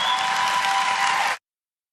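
Audience applause at a political rally, a loud, dense wash of clapping that holds steady and then cuts off abruptly.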